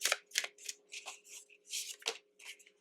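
Tarot cards being shuffled by hand, a series of soft papery riffles and slides close by in quick succession, alone without talk.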